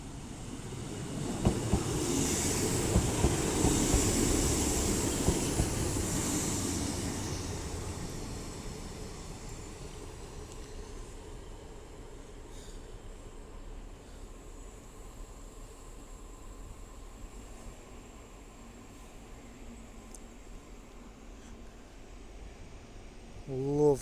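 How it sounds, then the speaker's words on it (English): A Northern class 150 diesel unit pulling into Doncaster station on a Sheffield service, a rising rumble and hiss that peaks within the first few seconds, then a long quieter fade as it slows, with a faint whine and click near the end. "now coming in is a class 150 for Northern, 15211, with a northern service to Sheffield"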